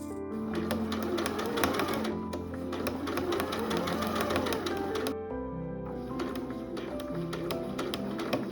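A sewing machine runs continuously, stitching the collar pieces of a vintage-pattern dress, with a rapid needle chatter that pauses briefly midway and resumes, close and fairly loud.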